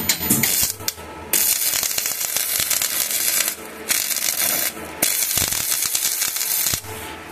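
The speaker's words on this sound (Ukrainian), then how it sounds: "Працює, але дуга така собі, скажем." An inverter welder running from a weak 160-volt mains supply strikes an unstable arc that crackles and sputters loudly up close, with abrupt dropouts and restarts over several seconds.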